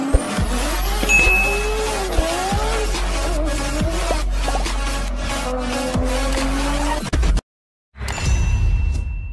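A Fiat Uno car drives along, its engine running steadily and near throughout with shifting tones as it changes pace, then cuts out briefly before resuming.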